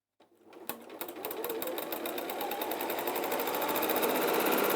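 After a soft click, a sewing machine starts up and stitches around the curve of a bag, its close needle rattle speeding into a steady, loud run.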